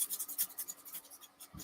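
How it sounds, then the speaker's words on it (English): A small scalpel scraping and nicking a surface in quick, repeated light strokes, close and fairly quiet, with no one talking. "So I'm going to use a little scalpel, and all I'm going to do is I'm just going to cut nicks out."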